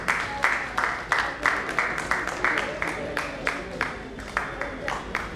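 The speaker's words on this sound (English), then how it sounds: "Please give a big round of applause to Mr. Asim Dhruv and Asim ji" An audience at a business seminar summit claps as a panelist is called onto the stage. The clapping falls into an even, rhythmic pulse of sharp bursts that continues throughout.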